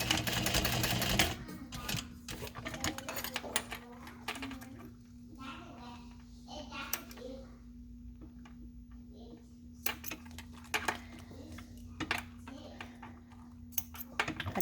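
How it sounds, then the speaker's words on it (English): A sewing machine stitches across a vinyl strap and back near a swivel clip, running in short, uneven bursts under a steady motor hum, with talking in between. "We're going to sew all the way across and back."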